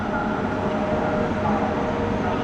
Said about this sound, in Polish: przejazd pociągu służbowego pod semafor